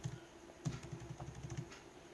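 Keys clatter on a computer keyboard while typing into Microsoft Word, a quick, uneven run of soft clicks heard faintly on their own.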